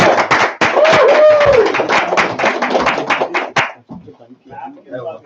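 Audience in a basement room clapping for two people at a Friday night gathering, a burst of dense, loud handclaps that thins into scattered claps, with voices heard through it.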